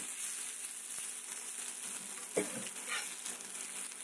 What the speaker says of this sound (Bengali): ঠিক এরকম মশমশা করে ভাজি করবেন